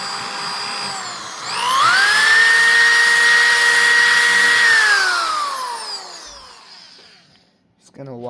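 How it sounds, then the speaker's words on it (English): An electric drill widens a hole in a wooden blade for a Lasko American Classic fan. The motor spins up to a loud, steady high whine, holds for several seconds, then winds down and fades, with a brief clatter at the end. "this is why I hate electric drills"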